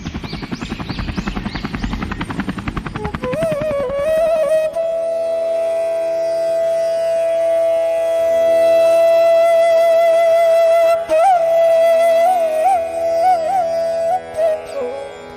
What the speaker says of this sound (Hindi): कल तक हमारे खेत में भी ड्रोन की मदद से कीटनाशक छिड़काव होगा